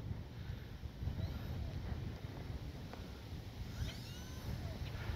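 Strong wind gusting across an RC plane flying field, buffeting the microphone in a continuous low, rumbling roar that swells and eases without pause.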